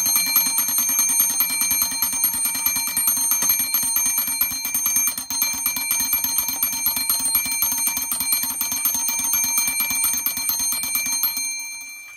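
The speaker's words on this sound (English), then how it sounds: "When it falls into the low spot of the cam, the alarm hammer is activated." A shield clock's alarm hammer rapidly strikes its bell in a steady, continuous ringing that holds loud and even for about eleven seconds before stopping abruptly, with no voices.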